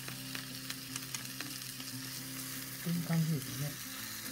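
Smoked meat sizzles gently in a pan over low heat, a soft, steady crackle close by, with a brief remark from a speaker near the end.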